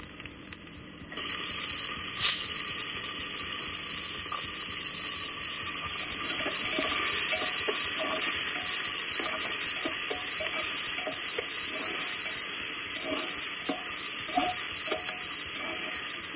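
Tomatoes fry in a pan for pav bhaji, giving off a steady, hissing sizzle that sounds almost like running water. A few faint stirring clicks sound near the cook, and no one speaks.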